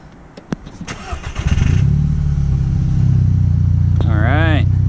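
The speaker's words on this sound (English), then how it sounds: "So we're going to start her up." A 2011-era MK6 VW GTI with new Red Top R8 ignition coils cranks briefly, then its engine catches and settles into a loud, steady idle nearby, with a short voice over the running engine.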